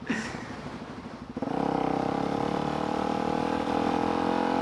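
Motorcycle climbing a flight of stairs with the throttle held open: a brief rev and clatter, then a steady, loud, close engine drone that holds without pause.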